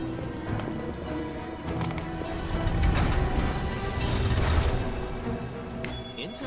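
Horse hooves clip-clop in the video game Pathfinder: Wrath of the Righteous, a steady rhythmic trot under a busy, dense in-game soundscape, fairly loud and continuous throughout.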